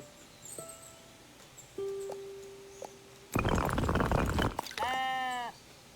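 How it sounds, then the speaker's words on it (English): Sheep in the building game Tiny Glade let out a short, clear bleat near the end, preceded by a burst of rustling and a few soft tones over a quiet ambient background. "See the sheep? They really like what you build in this game."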